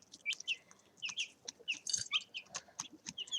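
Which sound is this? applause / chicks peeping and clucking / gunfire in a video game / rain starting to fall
chicks peeping and clucking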